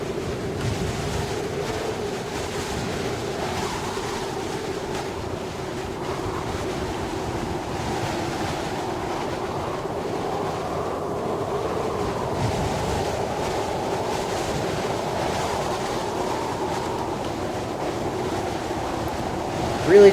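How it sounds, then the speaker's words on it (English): Loud, constant wind howls through the Kholat video game, a steady rushing roar with slight tonal whistling that holds for about twenty seconds with no talk. "This wind is really loud, though."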